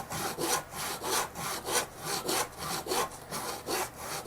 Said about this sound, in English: I'm going to take my handsaw and just cut that off